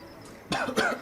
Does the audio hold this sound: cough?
yes